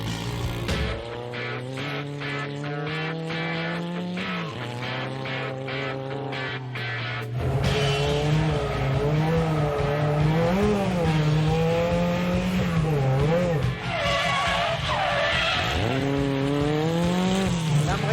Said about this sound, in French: C'est déjà impressionnant la glisse, c'est énorme.